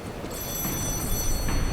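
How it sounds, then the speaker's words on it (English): An old-style telephone bell rings steadily in the dark city of Krat in the video game Lies of P, a continuous high trilling tone over a dense, murky background ambience. "there's a phone ringing"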